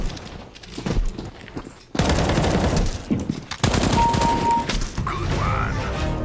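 Rapid bursts of automatic gunfire in Counter-Strike: Global Offensive, loud close fusillades with sharp cracks and a few thuds, coming in several volleys.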